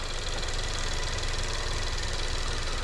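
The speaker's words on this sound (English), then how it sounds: "Engine should stall here shortly." A 2016 Ford Fusion engine with a faulty low-side fuel pressure sensor runs steadily just before stalling, a dense close-up drone with rough, knocking vibration and no pause.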